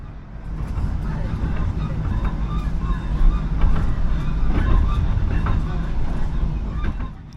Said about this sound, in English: With this squeaking sound being present for much of the journey.